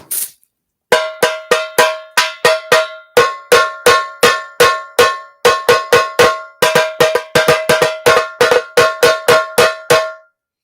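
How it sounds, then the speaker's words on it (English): A tight, high-pitched drum struck in quick rhythmic bursts, sharp ringing hits played alone in rolling patterns with brief pauses. "That's one tassa."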